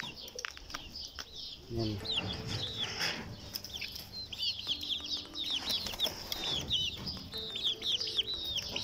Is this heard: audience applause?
no